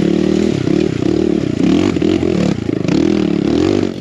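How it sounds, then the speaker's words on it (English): Kawasaki KLX170RF dirt bike fitted with a D3 exhaust, revving loud and close in rapid repeated bursts, its engine note rising and falling for the whole stretch with no talk. "this time we got the D3 exhaust finally on the bike and it sounds sick"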